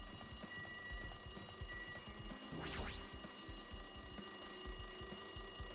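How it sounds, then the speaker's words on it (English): A telephone rings in the video game Danganronpa 2, a quiet electronic trill layered over steady game background tones, with one rising warbling sweep midway through and no speech. "It looks like that phone is ringing."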